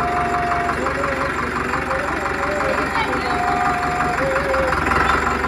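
A new tractor's engine idles steadily and fairly close, a continuous low rumble with a faint knocking pulse throughout, while a high tonal melody, like a horn or music, sounds intermittently over it.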